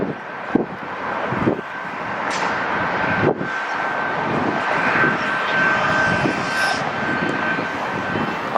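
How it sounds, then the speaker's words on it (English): A Boeing regional jet roars through its takeoff at Atlanta airport, the loud engine noise sustained and steady, with wind buffeting the microphone. "Taking off will be another Boeing regional jets, 981 Alpha Tango."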